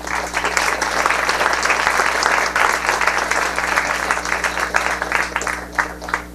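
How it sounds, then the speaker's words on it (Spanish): Sustained, dense applause from a conference audience after an expert's talk at a national parliamentary debate series, loud and steady throughout with a slight thinning near the end and no talk over it. "Un fuerte aplauso nuevamente para nuestro ponente"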